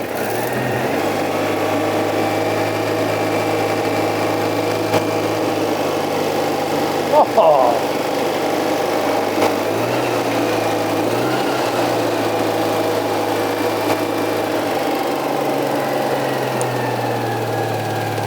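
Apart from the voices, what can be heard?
1970s classic car engine starting and running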